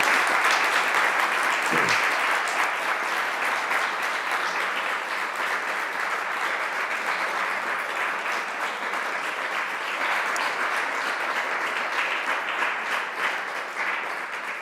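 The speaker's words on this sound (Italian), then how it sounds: "Grazie, dottoressa Gancitano, la ringraziamo veramente di cuore con un applauso dalla sala." An audience in a lecture hall applauds a speaker at length, dense sustained clapping from a large crowd holding at an even level throughout.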